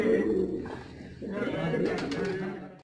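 A pigeon coos in low, soft throaty calls close by while someone talks over it.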